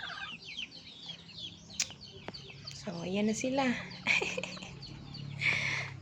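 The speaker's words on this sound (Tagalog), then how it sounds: "Ayan yung manok." Pet chickens cluck and chatter close by in a series of short, bursting calls, with a person speaking briefly over them.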